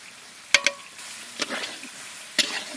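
Chicken kosha gravy cooks in a pan over a low, soft sizzle, broken by a few sharp scraping knocks of a ladle against the pan, near and fairly quiet.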